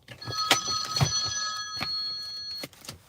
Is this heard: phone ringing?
yes